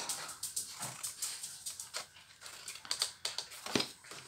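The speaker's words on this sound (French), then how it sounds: "Ils sont pas tout juste ces chiens," Dogs whimper and yelp in quick, uneven bursts close by, fairly faint overall, with no talking.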